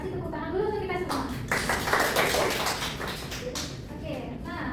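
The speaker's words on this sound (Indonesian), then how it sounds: "Tepuk tangan dulu untuk kita semua." A classroom group claps in a brief burst of applause, loud and close, with a teacher's voice talking before and around it.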